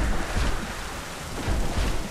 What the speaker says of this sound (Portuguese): Nossa, essa tempestade de raio tá sinistra.